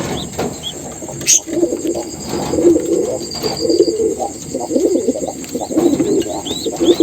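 Pigeons in a home loft with adult birds and growing peacock pigeon chicks, cooing in repeated low, throaty phrases close by, with an occasional brief chirp.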